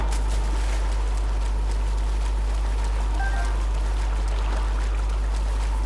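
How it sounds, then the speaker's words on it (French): Waterfall in Zelda Breath of the Wild, a continuous hissing rush of falling water that holds steady throughout, with a low hum underneath. "C'est l'autre cascade."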